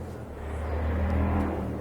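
Motorbikes pass by on a Sunday country road, a low steady engine rumble swelling slightly as they go by at middle distance, with no voices.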